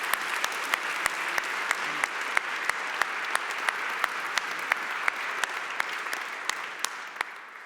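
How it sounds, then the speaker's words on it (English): A convocation audience applauds new colleagues and students in a large hall, a steady wash of many hands clapping with sharper individual claps popping out, moderately loud and continuous throughout. "Let's have a round of applause for all our new colleagues and students."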